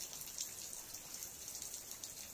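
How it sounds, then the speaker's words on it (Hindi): Steady rain patters at a market in Pasighat, Arunachal Pradesh, a faint, even hiss of drops with no talking over it. "बारिश भी बहुत ज़्यादा है सुबह से"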